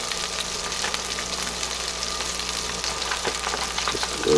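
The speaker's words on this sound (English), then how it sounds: "we've salted and peppered the burgers, and we've let them cook for a little while" Salted and peppered beef burgers sizzling on a Power Smokeless Grill, a dense, steady crackling sizzle close by with scattered pops throughout.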